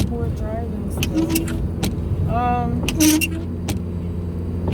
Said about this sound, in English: We're driving still.